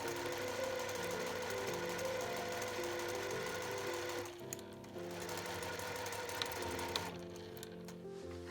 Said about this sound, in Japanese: カーブはできるだけ布をまっすぐにしてゆっくり縫いましょう。